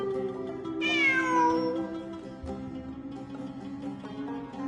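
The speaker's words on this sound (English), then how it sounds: "It really is a cat." A cat in Genshin Impact gives one clear, drawn-out meow with a falling pitch, close and prominent over a sustained low musical drone that continues after it fades.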